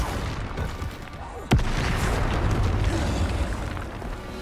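A Bombarda exploding spell in Hogwarts Legacy gives a sharp, loud blast mid-clip, then a rumbling, crackling roar that hangs on over the game's background noise.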